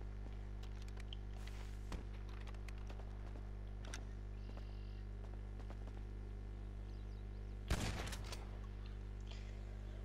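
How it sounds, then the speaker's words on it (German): Shotgun fire in a GTA Online shotgun deathmatch on PS4: one faint, distant shot early, then a single louder blast about two-thirds through. Both sit over a steady low hum with game ambience. "Hör auf, du schießt, es verratet dich."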